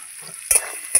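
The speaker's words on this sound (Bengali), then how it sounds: "নাড়াচাড়া করে ভালো করে এটাকে ভাজতে দেবো" Taro and prawns stirred in a pan with salt and turmeric, a soft steady sizzle broken by two sharp scrapes of the spoon against the pan.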